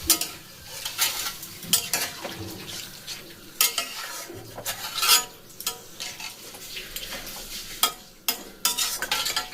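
Young jackfruit curry in a pan, with hot water just added, comes up to a boil, giving a steady close bubbling bed broken by sharp clinks and scrapes of stirring against the pan.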